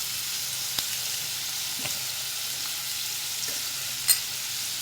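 Green chilies stirred and sautéing in a hot pan, a steady low sizzle running throughout with a few soft clinks of a spoon against the pan.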